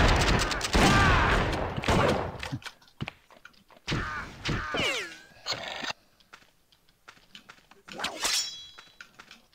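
Gunfire in the Outlaws multiplayer video game, with bursts of shots and clanging impacts mixed with horse whinnies and clip-clop hooves, loud and near, and a voice talking in between.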